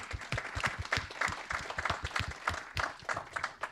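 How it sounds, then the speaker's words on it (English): A small audience at a small business and entrepreneurship policy forum claps, sparse distinct hand claps in an uneven rhythm, fairly close and moderately quiet. "why don't we give her a round of applause for putting this together"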